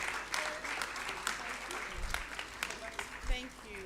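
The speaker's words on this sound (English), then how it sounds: "Another round of applause, ladies and gentlemen" Applause from the audience at a forum on women in government and media, steady clapping at moderate distance with a voice speaking over it.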